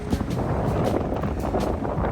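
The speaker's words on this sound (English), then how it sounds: "Gonna let the audio go on this one, give you an idea just how windy it really was." Strong wind buffets the microphone on a beach in the Philippines, a steady loud roar with gusting rumble and no voices.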